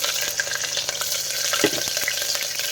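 Three cut green chillies fry in a pan of hot oil, a dense, continuous close sizzle with small crackles and faint stirring scrapes.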